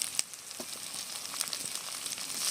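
Capsicum frying in hot oil for an eggless vegetarian Bengali curry, a quiet continuous sizzle with faint crackles and light pops, no voices over it.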